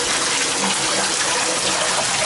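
Shower water pouring at high pressure, a steady loud broadband rush that holds unbroken from start to end with no voices over it.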